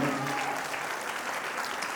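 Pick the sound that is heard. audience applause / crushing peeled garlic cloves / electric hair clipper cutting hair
audience applause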